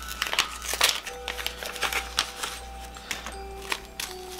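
A tag being pulled from a packet of rue herbs, heard as close crinkling and crackling of paper and plastic in short irregular bursts.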